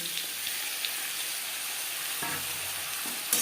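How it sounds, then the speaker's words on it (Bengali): Potatoes and radish fry with five-spice in a pan, making a constant, close crackling sizzle with light stirring noises and a brief clatter near the end, and no speech. "দু 3 মিনিট 5 ফোড়নের সাথে আলু ভেজে নেওয়ার পর দিয়ে দেবো মূলো।"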